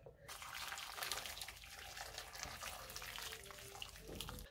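Hot water poured into a pot over ginger, dates and cloves for pineapple ginger juice, a steady splashing gush running throughout, close and fairly loud.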